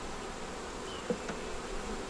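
Honey bees hum softly around the hive, a continuous faint buzz with one brief closer flyby standing out for a moment.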